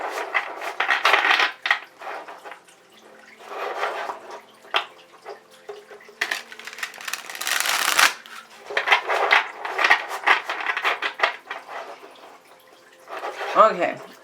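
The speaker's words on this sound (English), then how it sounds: "This deck is so hard to shuffle." A deck of tarot cards shuffled by hand in bursts of riffling and slapping, close and crisp, with pauses between. A person talks at times.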